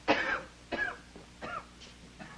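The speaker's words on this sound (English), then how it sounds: "That's a bad cough, mister." A man coughs in several harsh, rasping bursts, close by, with short pauses between them, the later coughs fading weaker.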